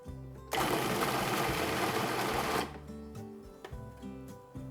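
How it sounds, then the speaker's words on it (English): A food processor pulses pieces of salmon in one loud, dense burst of about two seconds, then cuts off, leaving quiet clatter and faint room sound. "Now it's time to pulse the salmon."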